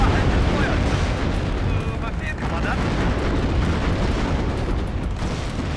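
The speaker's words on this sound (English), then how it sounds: "We've got plenty of tanks firing." Tanks firing and explosions in WARNO, a dense continuous roar of distant booms and rumbling blasts with a voice talking over the battle.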